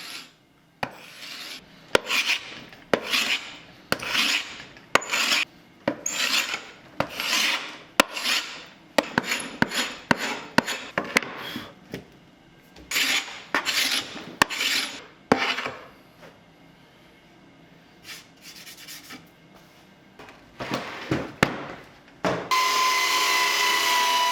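Repeated bursts of a power sander rasping against wooden tabletop boards, roughly one per second, with brief pauses and a steadier hiss at the end.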